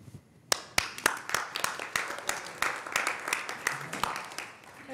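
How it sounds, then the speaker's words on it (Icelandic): A small group applauds in a city council meeting on violence prevention: a fairly quiet, uneven patter of individual hand claps that builds slightly and keeps going, with some voices underneath. "Við hættum ekkert að klappa fyrst við erum byrjuð á því."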